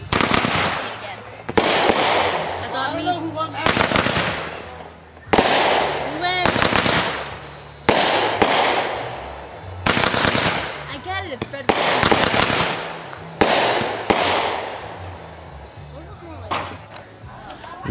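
A rapid series of loud fireworks booms at a backyard Fourth of July show, about a dozen sharp blasts roughly a second apart, each decaying into crackle and echo, with voices talking between them.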